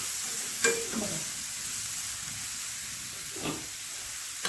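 Garlic, green chilli and cumin masala roasting in a pan gives a soft, low sizzle, broken by a few faint stirring scrapes and clicks.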